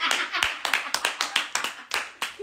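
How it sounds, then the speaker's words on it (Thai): An audience claps for a special guest on a Thai variety show, a steady run of sharp, close hand claps lasting the whole moment. "ขอเสียงปรบมือให้คุณสิ้นหวังครับ"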